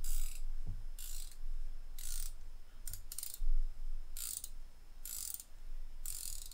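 A five-piece Gearwrench SAE/metric ratcheting wrench set clicks in short bursts, about seven brisk runs of rapid ratchet clicks close up, separated by brief pauses with faint handling noise.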